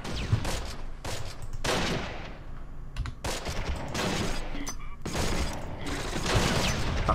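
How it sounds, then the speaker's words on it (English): Infantry gun and small-arms fire in the Close Combat wargame, set around an orchard during a Longest Day campaign battle: repeated loud bursts and volleys crackle through a steady din of combat noise, with no one talking. "That's his infantry gun."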